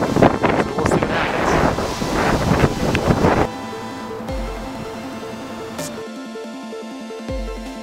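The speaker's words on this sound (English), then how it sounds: "It's a little windy, though." Gusty outdoor wind buffets a microphone as a drone is readied for its first flight, loud and rough for the first few seconds, then easing into a quieter background with a steady tonal hum.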